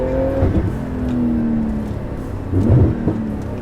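A Porsche GT2 RS engine revs and accelerates hard and loudly from a launch in first gear, pitch rising and falling across the clip, with no talking.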